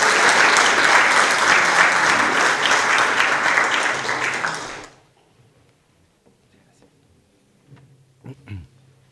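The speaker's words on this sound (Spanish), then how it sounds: "Con un fuerte aplauso saludamos al padre Jorge Luis." Audience at a lecture applauding to welcome a priest, loud sustained clapping from many hands for about five seconds that stops abruptly, followed by near silence and a few small knocks and shuffles.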